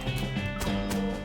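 Horse hooves in the video game West of Loathing, a short run of rhythmic clip-clop steps up close over a faint game background.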